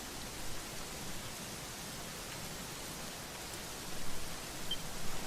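In the video game Dragon Quest 11, rain falls as an even, broad hiss that stays constant and moderately soft, swelling slightly toward the end with no speech over it.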